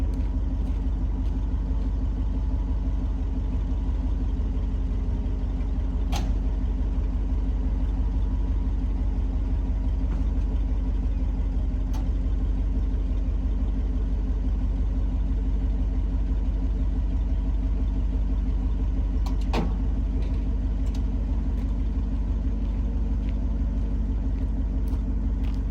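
A 1970 Ford 600 hay truck with a New Holland 1052 Retriever bed rumbles steadily at idle while its bed is lowered, a constant low drone with a few faint clicks, close and unbroken throughout.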